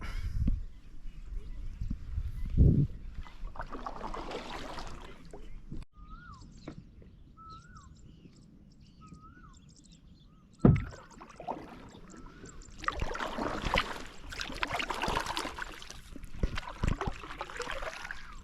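Kayak paddling on a reservoir: intermittent paddle strokes and water splashes come up close, with two sharp knocks against the boat, faint bird calls in the middle and light murmuring around.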